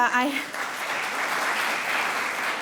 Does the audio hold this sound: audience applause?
yes